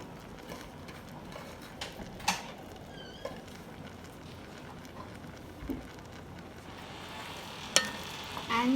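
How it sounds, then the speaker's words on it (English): Peppers tossed into a hot pot for Escovitch sauce to go over fried fish, giving a steady close sizzle and crackle with occasional sharper pops and clinks from stirring, no voices. "now I'm going to add my peppers to the pot."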